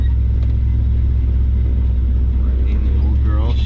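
Chevy square body truck with a swapped 6.0 LQ4 engine driving, a steady deep low rumble with engine drone filling the whole stretch, heard from inside the cab at close range.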